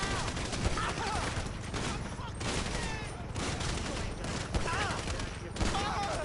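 Rapid bursts of gunfire in the video game GTA 5, a steady fusillade with sharper shots standing out, loud and continuous under background game noise, with players talking over it.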